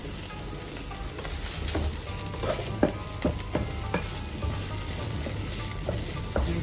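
Minced meat and onion being stirred in a hot pan, a steady sizzle broken by scattered scraping clicks of the utensil against the pan, close and moderately loud with no talking.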